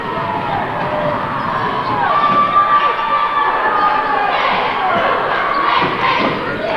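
A high school boys' basketball crowd cheers and shouts during a close game, a loud, sustained roar with scattered yells, ball bounces and sneaker thumps, and an announcer talking over it.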